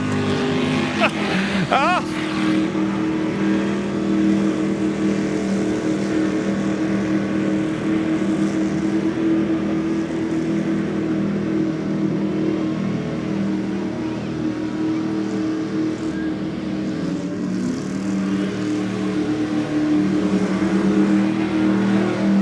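A car with no steering does a burnout in a competition arena, holding a loud, sustained engine rev with roaring, spinning tyres throughout. A commentator's voice runs over it.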